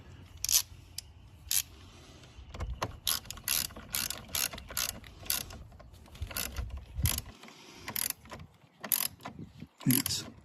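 A ratchet wrench tightens the battery terminal clamp on a first-generation Ford Fusion, with bursts of quick clicking strokes and pauses between them, close up and fairly quiet, amid faint handling noises.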